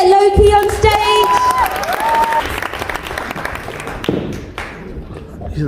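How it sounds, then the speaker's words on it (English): Loud applause and cheering from a comedy night crowd in Birmingham, a sustained wash of clapping that follows a voice and gradually thins out over several seconds. "Right, guys, round of applause."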